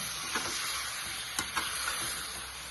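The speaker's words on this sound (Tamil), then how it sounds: "நம்ம தக்காளி எல்லாம் போட்டோம் இப்போ இதில் எண்ணெயில் நல்லா வணக்கிடலாம்" Chopped tomatoes fry in oil in a village-style tomato curry, giving a loud, steady, close sizzle throughout with a few soft stirring scrapes and no talk.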